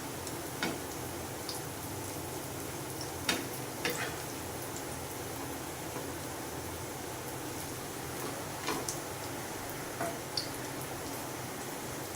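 Baby corn sticks frying in oil, a steady soft sizzle with occasional faint pops and ticks, quiet and close, with no talking.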